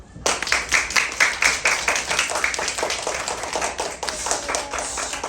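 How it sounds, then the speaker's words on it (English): A second-grade class in a classroom does a dynamite clap, a loud, fast, ragged series of hand claps from many children, with whistling squeals in the first half and faint chatter mixed in. "I need you all to give yourself a dynamite clap."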